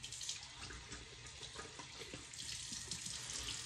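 Tap water runs steadily as a beard is rinsed at a bathroom sink after washing with a King C. Gillette beard kit product, a continuous close hiss with faint splashing throughout.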